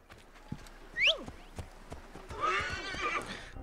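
A horse in Assassin's Creed Origins whinnies with a rising, shrill call near the start, followed by a burst of clip-clopping hooves and rustling movement, fairly close against light background ambience.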